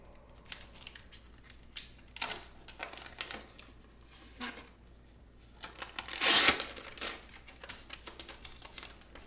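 A packaged laptop charger is unwrapped with soft crinkling and rustling of packaging, punctuated by brief tearing bursts and one louder rip near the end, close and quiet, with no speech.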